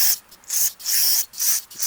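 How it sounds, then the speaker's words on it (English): Carburetor cleaner hisses from a spray can through the passages of a Honda push mower carburetor in four steady bursts, each about a third of a second long, with short pauses between them, close up. "We'll just spray through all these other passages."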